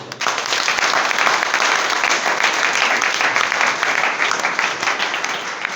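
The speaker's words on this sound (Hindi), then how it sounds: "ये हमारे मेहमान हैं, एक बार इनको ताली दीजिए।" An indoor seminar audience gives a sustained, dense round of clapping to welcome first-time guests, loud and close, steady from start to finish with no talking over it.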